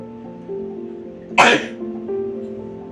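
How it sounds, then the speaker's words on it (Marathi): A single sharp sneeze bursts out near the microphone, loud and brief, in the middle of a quiet indoor family game setting with a low background hum. "मला शिंक येतीये"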